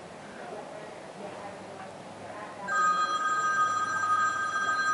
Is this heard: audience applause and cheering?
no